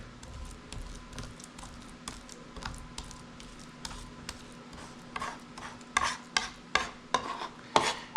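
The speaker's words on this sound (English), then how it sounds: "now what I'm going to do is mash them with the side of my chef's knife" The flat of a chef's knife presses and mashes garlic cloves on a board with soft, irregular taps and knocks that grow firmer and louder toward the end, over faint background hiss. There is no talking.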